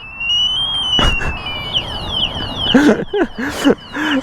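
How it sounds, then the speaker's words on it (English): An e-bike's alarm wails with a sweeping, repeating tone, loud and close, while sharp knocks and a few voices break in. "Oh my gosh, the alarm's going off."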